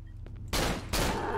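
Two loud, sustained bursts of gunfire from the horror video game Cry of Fear, one following shortly after the other, each with a hard onset and a long ringing tail, with no talk over them.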